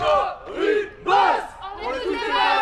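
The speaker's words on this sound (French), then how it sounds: "Première épreuve pour nos deux équipes nouvellement formées, se trouver un cri de guerre dans des styles pour le moins différents" A newly formed team on a French adventure game show shouts its battle cry together, several voices bellowing in rough unison in three loud, rising bursts across a few seconds.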